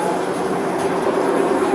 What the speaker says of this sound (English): We're going to get on the train, Steven.